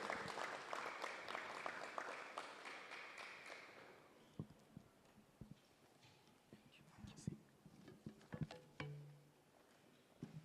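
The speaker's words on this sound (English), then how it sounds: "We can continue to give him a round of applause." Audience at a public lecture applauds as a guest walks up to the podium, a dense clapping that fades after a few seconds, followed by scattered footsteps, taps and quiet talk.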